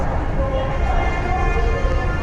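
A train rumbles steadily from close by, with a constant low roar and rattling of cars in motion, and a voice murmurs faintly underneath.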